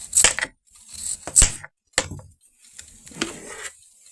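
Knife cutting through chayote on a board, a few sharp separate chops and slicing strokes, close and clear with short quiet gaps between.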